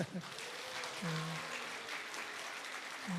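A church congregation at a mothers' prayer meeting claps to welcome a guest lecturer, a soft, steady patter of many hands heard from a distance with faint voices mixed in.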